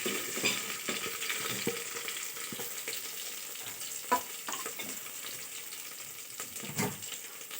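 Chopped onions frying in a pan for chintakaya charu, added after garlic and curry leaves: a steady close sizzle broken by scraping stirs and a few sharper clinks, with no voices.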